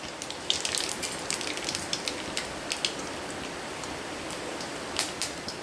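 Dried red chilli, a small bay leaf and nigella seeds sizzle in hot oil, a steady close hiss sprinkled with sharp crackles and pops, with no voices.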